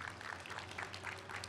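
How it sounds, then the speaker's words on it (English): A brief, faint round of applause comes from an audience at a Black History Month celebration, with dense, diffuse clapping heard from a distance. "Please give everyone a round of applause."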